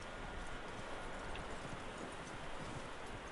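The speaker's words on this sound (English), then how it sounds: "That looks like a decent horse." Horse hooves clop steadily in Red Dead Redemption 2, a continuous run of muffled beats under a constant wash of broadband ambient noise, with no talking.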